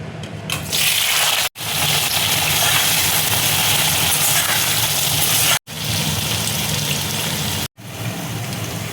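Potatoes dropped into hot mustard oil in a wok give a steady, loud, broadband sizzle that carries on without letup, with a few brief sharp breaks where the sound cuts out.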